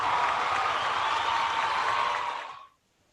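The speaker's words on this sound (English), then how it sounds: "Give yourself a little clap and a cheer." Quiz participants on a Zoom call clap and cheer together in a dense, compressed wash of applause that holds steady, then fades and cuts off just before the end.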